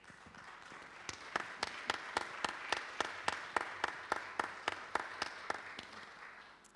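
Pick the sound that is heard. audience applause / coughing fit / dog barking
audience applause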